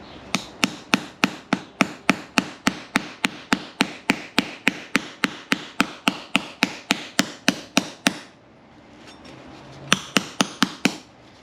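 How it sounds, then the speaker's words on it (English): A light hammer strikes a metal footwell repair panel resting on a sandbag in a steady run of sharp, evenly spaced whacks, pauses briefly, then lands a few more close, bright taps. "give this a couple of whacks with a"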